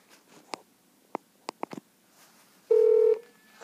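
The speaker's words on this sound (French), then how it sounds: "Donc vous voyez, mon téléphone sonne." An iPod used as a phone places a call: a few light taps, then one short, loud electronic ring tone that stops abruptly.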